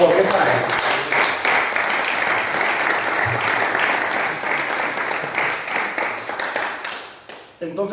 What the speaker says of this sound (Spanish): aplauso para Dios, por favor, que es para Él.